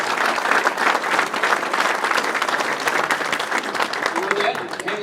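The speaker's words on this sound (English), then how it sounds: "I think just give them all a round of applause for their efforts." Audience at a local history talk about a speedway claps warmly, a dense, close round of applause that holds throughout, with a few voices faintly audible near the end.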